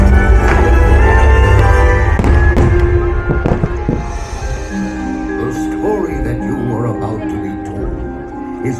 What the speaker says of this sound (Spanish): el show de fuegos artificiales